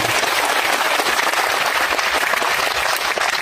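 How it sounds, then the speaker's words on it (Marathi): A crowd at a political speech in Mhaswad, held for a state minister, breaks into loud sustained applause, dense continuous clapping that fills the whole stretch with no voices over it. "देवेंद्रजींना एकदा जोरदार टाळ्या वाजवा देतो."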